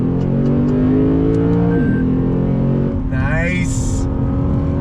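A 2021 Lexus RC F's V8 engine drones loudly and steadily under throttle from inside the car, its pitch rising briefly near the end as a man exclaims over it.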